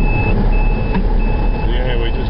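A short-haul truck carrying pipe from the port drives down into an old log yard, its engine a loud, close, continuous rumble with a steady high beeping tone running over it, heard from inside the cab.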